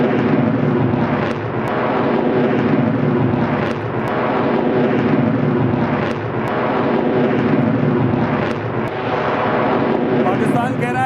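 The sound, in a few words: P-8I maritime patrol aircraft flying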